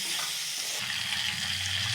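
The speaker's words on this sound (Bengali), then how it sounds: "আমি ভেজে রাখা আলু ফুলকপি দিয়ে দেবো। বেশ একটু নাড়াচাড়া করে নেব।" Fried potatoes and cauliflower are stirred into sizzling spices in a pan, giving a steady close hiss with a low scraping rumble that starts partway through.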